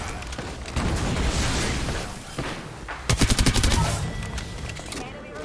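Flatline rifle fire in Apex Legends comes as loud rapid bursts, including a sharp stuttering volley of evenly spaced shots, mixed with game noise and a voice talking in the background.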